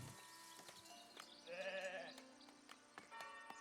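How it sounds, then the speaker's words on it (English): Sheep bleat once in the Foundation video game, a clear, moderately distant call rising briefly over faint ambient farm-village background sounds. "Look at all the fluffy sheeps going around."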